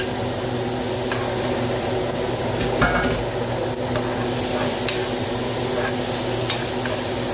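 Chorizo, garlic and chili fry in a hot pan with a dense, continuous loud sizzle while a utensil stirs through them, adding occasional scrapes and clacks, up close with no talking.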